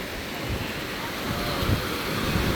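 Strong ocean surf at a red-flag beach in Noja, Cantabria, Spain at high tide, a continuous broad wash of breaking waves with wind noise over the microphone.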